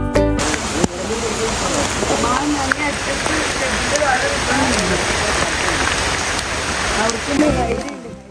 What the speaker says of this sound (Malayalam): അപ്പോഴേക്കും വീണ്ടും സ്ട്രോങ് മഴ.